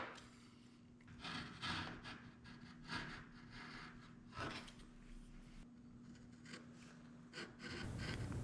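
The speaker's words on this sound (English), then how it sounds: "So I just trim it to a good fit using a sharp chisel." A sharp hand chisel pares wood to fit a dovetailed box joint, making faint, quiet rasping strokes that repeat at an uneven pace.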